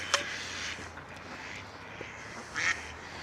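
Ducks quack twice by their small duck house in a cold village setting in the Yorkshire Wolds, a short call early and a louder one near the end, over a steady low outdoor hum.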